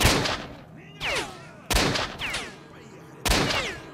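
Gunfire in the video game Stalker: Shadow of Chernobyl: three loud, sharp shots with short echoing tails spaced over a few seconds, plus whooshing in-game effects between them.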